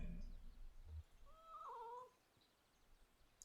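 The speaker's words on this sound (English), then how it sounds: "Assertive meow. Oh, there's the cat." A single cat meow from the video game Kentucky Route Zero, rising then falling, fairly faint against quiet background after a soft thump.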